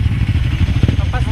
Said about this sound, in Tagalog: Tinetest nila na yung decibel ng motor mo sa pipe mo